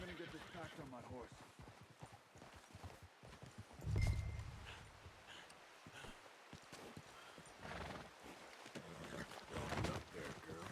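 Horse hooves clip-clopping in the video game Red Dead Redemption 2, an irregular rhythm of soft hoof beats under frequent speech, with a louder snort or whinny-like burst midway.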